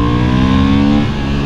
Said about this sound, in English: For a 750 twin-cylinder engine, the Hornet has quite a nice sound.